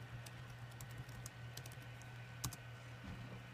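Quiet rapid keystrokes on a computer keyboard as a password is typed, a run of light clicks with a slightly louder tap near the end, over a low steady hum.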